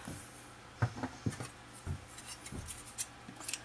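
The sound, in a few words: cutting crochet thread with scissors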